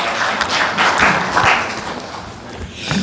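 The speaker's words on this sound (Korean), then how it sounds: "다시 한번 뜨겁게 박수 환영해 주시기 바랍니다" An audience at a lecture on modern Christian mission stations and UNESCO World Heritage claps steadily to welcome a speaker, a close, even wash of applause that fades slightly toward the end.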